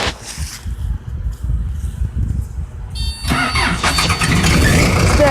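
A Toyota Tundra pickup cranks and its engine catches at about three seconds, then settles into a loud, close idle with a high whine on top.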